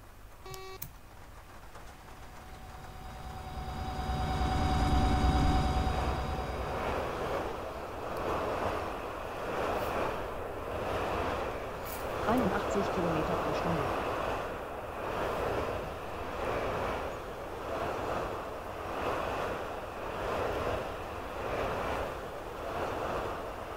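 A GBRF Class 66 freight locomotive in TramSim revs up and pulls away on the Great Eastern Main Line, a steady rumbling drone with rhythmic pulsing clatter building over time, sounding synthetic.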